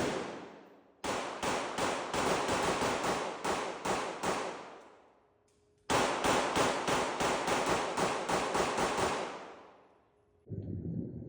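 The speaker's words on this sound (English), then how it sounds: "here is me shooting a handgun" Handgun fired in rapid strings, two bursts of sharp, loud, closely spaced shots with ringing decay, separated by a brief pause, alone with no talking.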